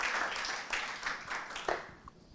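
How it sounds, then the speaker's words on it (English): Conference attendees at the SEEDIG 8 annual meeting give a round of applause, many hands clapping together in a hall before the clapping thins and fades out. "Round of applause for Elena."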